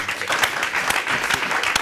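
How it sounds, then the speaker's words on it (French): Studio audience applause rises for a guest on a national Burkina Faso television talk show, a brief, fairly dense patter of clapping with a few sharper claps standing out. "On va l'applaudir très fort."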